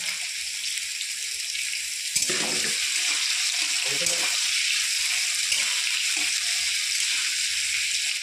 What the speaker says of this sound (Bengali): পেঁয়াজটা আমি বাটবো না, পেঁয়াজটা লাল করে ভেজে নেব